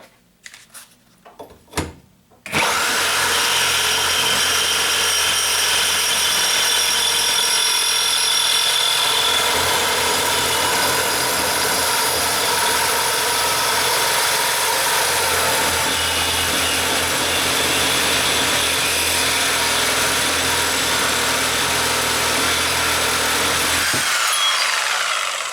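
Milwaukee Super Sawzall reciprocating saw with a metal cutting blade slicing through thick steel square tubing, a loud, harsh continuous rasping grind that starts after a few short knocks and stops abruptly near the end.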